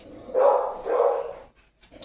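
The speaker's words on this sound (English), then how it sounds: "You hear my dogs." Two loud, close dog barks from household dogs, each a broad burst about half a second long, the pair heard with a short gap between them and then a quieter trailing yelp, set apart from speech.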